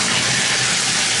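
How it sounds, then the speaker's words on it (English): A shower runs hot at high pressure in a house bathroom, a loud, steady broadband hiss of spraying water, close and unbroken with no talking. "you can hear and see the shower is great"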